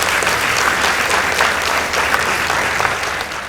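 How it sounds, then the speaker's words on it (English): An audience at a girls' high school debate claps steadily and loudly for the losing team after the score is announced, a dense, continuous round of applause with no talking over it. "Let's give them a round of applause."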